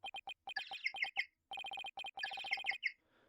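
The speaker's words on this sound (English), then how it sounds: "That's my ringtone." An electronic phone ringtone from the game Turnabout Reclaimed plays a chirpy, bird-like pattern of quick beeps. It sounds in two bright rhythmic runs separated by a short pause, clear and alone.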